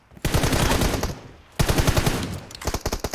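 Video game gunfire rings out in fast automatic bursts, two long rattling volleys followed by a shorter string of shots, loud and close.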